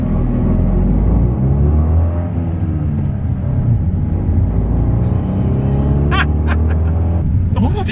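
A 2021 Fiat Panda 4x4 engine runs with a steady, close, low rumble and a hint of revving, with a faint voice near the end.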